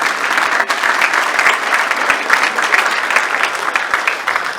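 An audience at a Gracie Mansion celebration of Jewish heritage breaks into loud, sustained applause, a thick crackle of many hands clapping close and continuous throughout.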